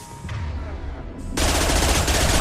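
Rapid automatic gunfire from a modded Mass Effect video game rattles continuously, growing heavier and louder partway through as dense bursts overlap.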